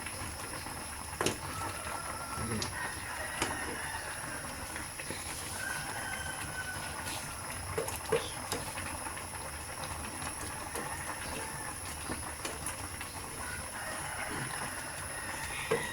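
A steady hiss of rolling boiling liquid with faint bubbling pops, continuous and fairly close, no voices, from a pot of crab simmering with string beans and squash.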